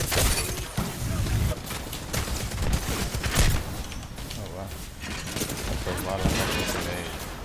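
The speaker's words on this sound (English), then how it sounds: "a lot of shooting through the grenades" A video game shooter with continuous gunfire and grenade blasts, dense and loud throughout, with crashes and rattling shots overlapping and a voice talking beneath the action.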